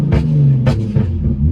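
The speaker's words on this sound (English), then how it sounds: "I'll rev it, and then you can hear the pops hopefully on the camera." A 2013 Hyundai Genesis Coupe 3.8GT idles with a steady low engine rumble, broken by two or three short sharp exhaust pops spaced about half a second apart, close by with no talking.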